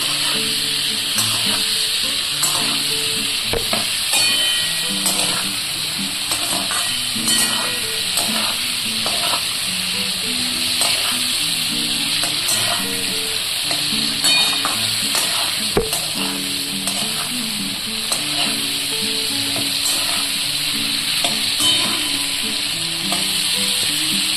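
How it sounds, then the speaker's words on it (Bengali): Cauliflower florets stir-fried with whole tempering spices in a pan for a homemade winter cauliflower curry, a steady loud sizzle with repeated scraping and clinking of the stirring spoon throughout, no voices. "এবার আমি ফুলকপিটা ফোড়নের সাথে ভালো করে মিশিয়ে আমি এটাকে একটু লালচে করে"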